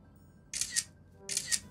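Two quick bursts of a camera shutter firing, each a crisp double click, spaced about a second apart and fairly close, with a faint low background hum.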